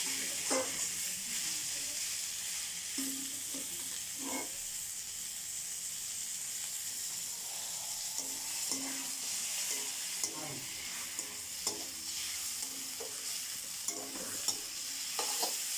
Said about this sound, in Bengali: আমরা হচ্ছে টমেটো দিচ্ছি। দিয়ে ভালো করে নাড়াচাড়া করতে হবে।